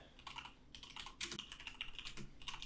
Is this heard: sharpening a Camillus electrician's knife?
no